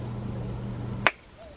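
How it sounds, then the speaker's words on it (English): A single crisp finger snap cuts off a low humming background, leaving near silence afterward. "I just want to be in Maui when I snap my fingers."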